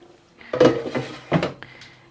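Piedmont peppers dropped into the pan of a Ninja air fryer: two or three nearby clunks and rattles of produce against the metal pan, each with a short ringing tail, no talking.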